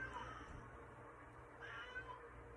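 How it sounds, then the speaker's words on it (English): A house cat meows faintly in the background, two short thin calls about a second and a half apart over a quiet room hum. "Y'all can hear my cat in the background, can't you?"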